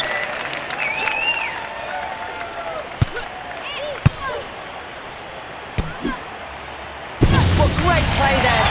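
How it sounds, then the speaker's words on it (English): Virtual crowd applause and cheering in the London 2012 video game, a steady wash of clapping with a few sharp thuds, swelling louder near the end. "The crowd are on their feet with that point one."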